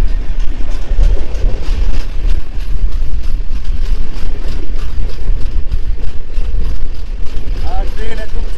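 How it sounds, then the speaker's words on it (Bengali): A long-distance passenger train speeds along the tracks, heard from inside as a loud, continuous rumble with rhythmic rattling clacks throughout. "আর ট্রেন একদম ছুটে চলেছে।"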